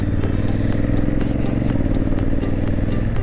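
Motorcycle engine running steadily on a ride from Kudremukha to Bengaluru, shifting gears mid-run, with a loud continuous low rumble and periodic higher clicks, close and constant without pause.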